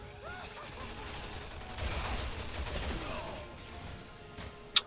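Sniper rifle shots and other gunfire ring out during a Resident Evil game, a dense spread of cracks under steady background noise, with one sharp, louder shot near the end.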